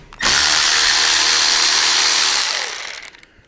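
Power driver whirring loudly for nearly three seconds as it removes a Torx 25 bolt from an Advanblack low rider short brake lever, spinning up sharply and tapering off at the end.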